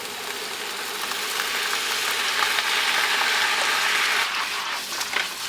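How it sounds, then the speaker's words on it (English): Chicken stir fry with soy sauce sizzles and crackles steadily in a hot pan, a dense frying hiss that holds constant with faint clinks, close and fairly loud with no talk. "Let that saute for another few minutes."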